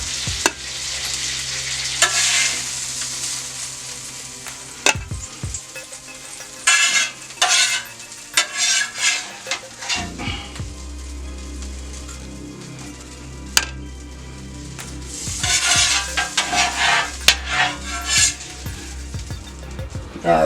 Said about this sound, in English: And then we're gonna add our peppers to here.